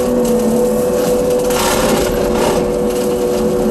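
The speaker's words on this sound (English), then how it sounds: "this brush cutter, even though it's a brush cutter and it's mowing grass, it's still able to tackle these limbs" A Rut Terminator brush cutter's small engine whines loudly and continuously, its pitch steady with rough chopping noise as it cuts through grass and limbs.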